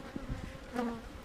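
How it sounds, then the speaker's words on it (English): Field bees buzz faintly around a hive entrance, returning from a nuc that is being moved into a 10-frame box, with one brief louder pass of wing hum. "Bees are already entering that field bees coming back from the nuke, already coming on in."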